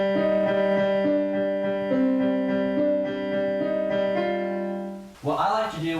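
Solo piano plays the Shin Gojira theme at full tempo, a droning low bass note beneath ringing chord changes, followed by a short burst of handling noise at the end.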